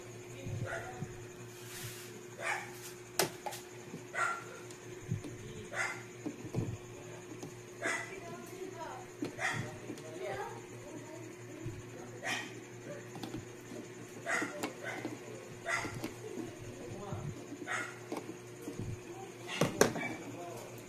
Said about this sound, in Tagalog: Ingay ng aso dito.